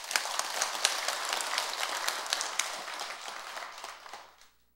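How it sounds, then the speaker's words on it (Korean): An audience at a Sunday dharma talk at Jogyesa temple applauds in a dense, steady burst of clapping that fades out after about four seconds, leaving near silence. "그런 의미에서 박수 한번 더 쳐보세요."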